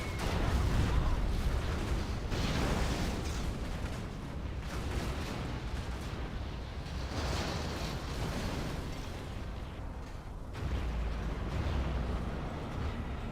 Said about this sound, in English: It is an Anthrax Bomb.